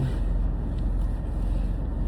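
A diesel car's engine drones low and steady from inside the cabin while riding, a continuous rumble with faint road and wind noise and no voices.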